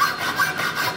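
Hand saw cutting through a larger-diameter metal threaded rod for an outboard prop shaft job, a steady rasping back-and-forth stroke repeating about every half second, close and fairly loud with no talking.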